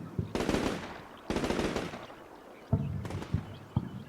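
Gunfire in the wargame Combat Mission Shock Force 2 as fire is called onto a trench of Syrian infantry: two long, loud rattling bursts, then three sharper single reports spaced apart.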